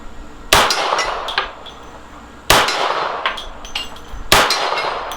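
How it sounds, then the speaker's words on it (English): Three widely spaced .38 Special wadcutter shots from a S&W Model 52-2 pistol strike a steel silhouette target at an outdoor range, each a sharp crack with a ringing metallic clang that fades before the next. "Now hitting the silhouette, but not getting the center out."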